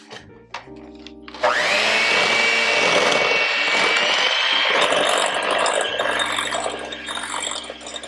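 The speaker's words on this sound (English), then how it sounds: "And we'll mix those things together." An electric mixer whirs loudly and steadily for several seconds, blending vanilla into creamed butter and sugar for a chocolate chip skillet cookie dough, starting abruptly after a few light kitchen clatters.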